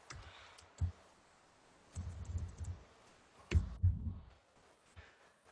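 Quiet clicks and short bursts of typing on a new computer keyboard come in a few separate clusters against a near-silent background.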